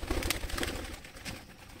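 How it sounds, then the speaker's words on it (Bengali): A yellow-eyed domestic pigeon gives a brief, low cooing call close by, heard over rustling and handling noise. "দেখো এটা হচ্ছে হলুদ চোখের পায়রা আছে"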